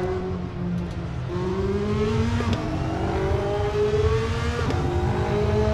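A race car in Assetto Corsa online racing drones steadily near the listener, its engine pitch stepping down as it brakes and downshifts into a left turn, with no speech.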